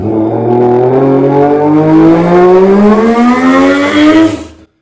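A human voice imitates a Toyota Supra 2JZ-GTE turbo sound, a loud, rising, siren-like revving tone that climbs steadily for several seconds and then cuts off abruptly.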